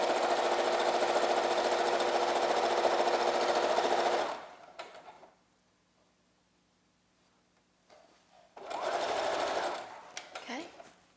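A sewing machine stitches cloth ties onto a fabric face mask, running in a loud, fast, steady whir for several seconds, stopping, then starting again in a shorter burst nearby.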